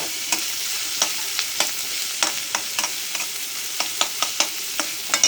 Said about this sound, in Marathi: हा कांदा फ्राय झालेला आहे.